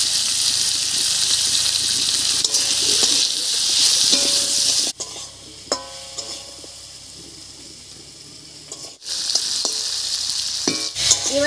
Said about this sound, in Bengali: এবার পেঁয়াজের সঙ্গে আলু আর চইটাকে একটু ঢাকা দিয়ে ভেজে নেব।